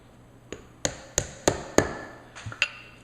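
Sharp metallic hammer taps knock a pin out during disassembly of a Masterpiece Arms MPA 930 Mini 9 pistol. There are seven distinct strikes, each with a short ringing decay, spaced unevenly and loud and close.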